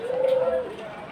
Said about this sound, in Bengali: লক্ষা কবুতর।